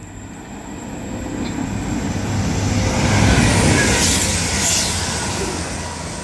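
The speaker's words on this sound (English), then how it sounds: "it'll be a Voyager, which is passing through now to Manchester Piccadilly" A Class 220 Voyager train passing through toward Manchester Piccadilly on the West Coast Main Line at Heaton Chapel, a loud close continuous roar of wheels and rail that swells mid-pass then eases slightly, with no talking.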